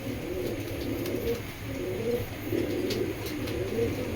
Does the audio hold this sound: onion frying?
no